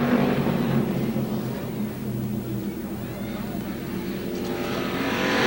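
Street stock race cars roar around the Lee Speedway oval in New Hampshire, a steady blended engine drone holding throughout with a lift as cars close in near the end.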